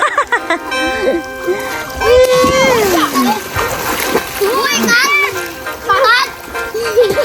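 Rural village children play in water, with loud, close splashing and sloshing mixed with excited kids' shouts and chatter throughout.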